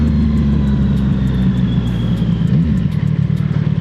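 CFMoto 675SS motorcycle engine downshifting while slowing for a red light: loud, close low drone with wind rumble and slight pitch shifts as gears drop.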